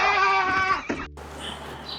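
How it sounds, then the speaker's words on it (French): A cat gives a long, loud, close meow lasting about a second, followed by a quieter room with faint background noise. "Oh le chat."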